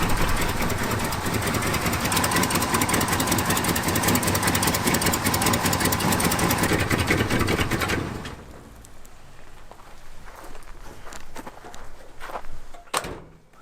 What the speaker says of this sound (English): Not idling great, but it's idling hands off,